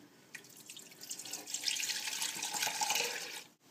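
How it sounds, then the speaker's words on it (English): Full cream milk pouring into a Thermochef jug that already holds chunks of salted butter, a steady liquid stream building over a few seconds before stopping abruptly, close and fairly quiet with no talking. "Then we're just going to add our full cream milk."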